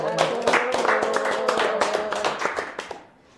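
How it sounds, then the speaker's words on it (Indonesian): An indoor audience at an office event applauds with steady, close clapping that tapers off at the end. "Tepuk tangan dong."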